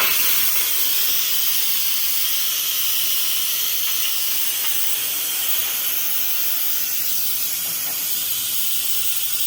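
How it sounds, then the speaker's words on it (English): An Instant Pot vents steam through its pressure release while cooking neck bone soup, a loud continuous close hiss that holds steady throughout with no talk. "I'm about to go ahead and vent all that steam out"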